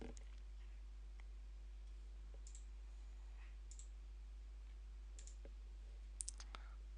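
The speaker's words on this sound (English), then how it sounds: "another method for closing is simply clicking on the close button of the window" A few soft computer mouse clicks land near the end, closing the window of an Ubuntu virtual machine; they are faint against a quiet, steady background hum.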